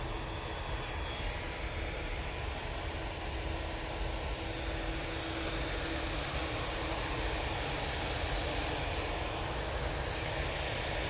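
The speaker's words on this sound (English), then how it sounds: "Using the 787-9 Dreamliner for this flight." Boeing 787-9 Dreamliner jet airliner at Manchester Airport, a steady broadband roar of jet engines sustained throughout at moderate distance with no talk.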